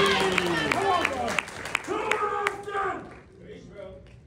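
An audience claps in a quick rhythm, scattered sharp hand claps sounding under a voice that keeps talking, fading as the applause dies out.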